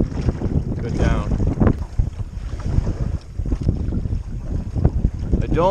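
Strong wind buffets the microphone in a continuous rumbling roar on the water from a canoe, with faint water and boat sounds and a brief voice underneath.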